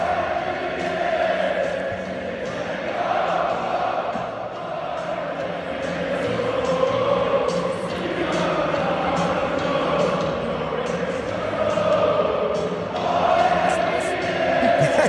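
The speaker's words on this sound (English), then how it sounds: "listen to the crowd and what they're singing" Arsenal fans singing at Wembley, heard as a recording: a dense crowd chant swells and dips continuously in a large stadium, with a steady massed roar throughout.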